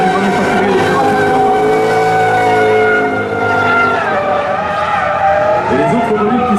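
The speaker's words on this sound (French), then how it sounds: "un voiture très proche de la série, mais propulsée par un moteur V8 de 5 litres bien évidemment, caractéristique de cette fameuse BMW M5" A BMW M5 with a 5-litre V8 drifting at a show event, loud sustained engine roar mixed with squealing tires, continuous and close.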